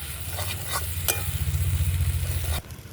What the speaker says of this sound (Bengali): ভালো করে ভেজে ভেজে লাল করে নেবো।